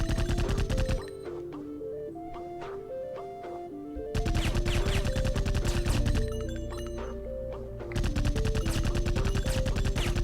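Rapid enemy machine gun fire in the video game Iji, a dense stream of rattling shots in long bursts with short pauses between them, set over looping electronic game music.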